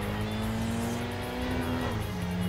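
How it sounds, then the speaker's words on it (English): Turbocharged Nissan Sileighty 180SX engine in the racing video game Kaido Racer 2, a steady loud drone holding pitch then dropping as it shifts, under busy game background noise. "because I got turbo on this car, by the way, because it is a Sileighty 180SX"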